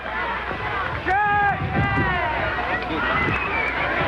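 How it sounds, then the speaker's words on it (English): Photographers shout from a roof toward an election night crowd in 1960, raised voices calling out over a rough windy outdoor rumble, several yells close together. "Photographers yelling from the roof to get a picture."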